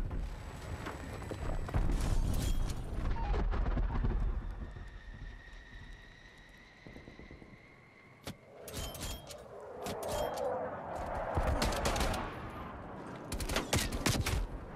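Hostile strafe run in Call of Duty free-for-all, rattling bursts of aircraft gunfire and explosions sweeping through the match, moderately loud with whooshing passes and crackling impacts, little talk.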